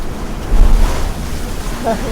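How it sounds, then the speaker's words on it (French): Strong wind above 30 knots roaring over a sailboat at sea, with steady loud broadband rush and wave wash throughout, and a faint voice briefly under the gusts. "il y a du vent en tout cas, plus de 30 nœuds"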